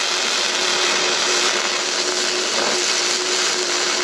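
A Bestarc MIG145 MIG welder lays a bead on metal, producing a steady, loud, continuous buzzing hiss with a faint hum, close by and uninterrupted for the whole stretch, with no talking over it.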